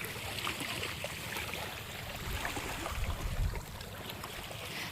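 Soft, continuous wash of ocean waves at an island campsite, faint and distant, with a low rumbling swell building and fading and no voices.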